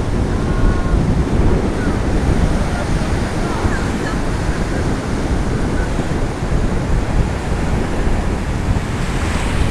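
Strong, cold wind buffets the microphone continuously while Atlantic Ocean surf roars steadily in the background in Argentina, loud and unbroken throughout.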